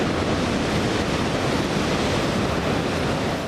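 Heavy storm surf from Cyclone Biparjoy roars continuously, a dense, loud, unbroken wash of breaking waves with wind blasting across the microphone.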